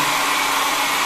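A hair dryer blows steadily and loudly, a constant whooshing hum with no pauses or voices.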